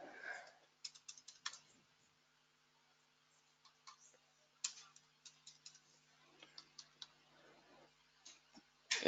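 Scattered bursts of computer keyboard typing, quick clusters of clicks separated by quiet gaps, fairly soft and close.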